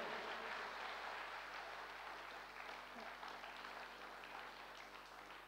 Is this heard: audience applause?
yes